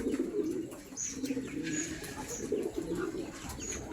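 Many domestic pigeons kept by a hobby breeder in Kushtia coo steadily and close by in low, rolling overlapping calls, with occasional faint chirps above.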